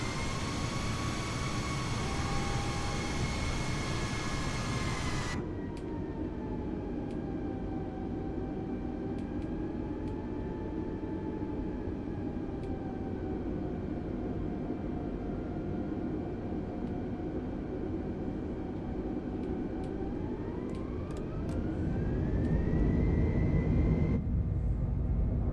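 A Virgin Australia Airbus A330-200 jet rolling for takeoff heard from inside the cabin, a steady loud engine roar and rumble with a whining tone that shifts pitch, rising to heavier rumble near the end.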